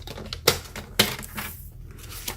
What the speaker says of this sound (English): So now we're going to trim that 1 inch edge.